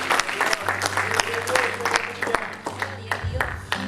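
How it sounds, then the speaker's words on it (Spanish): A church congregation applauds for the Lord during a Good Friday sermon, clapping rising and falling over a sustained organ or keyboard chord, with voices mixed in. "Denle ese aplauso fuerte al Señor"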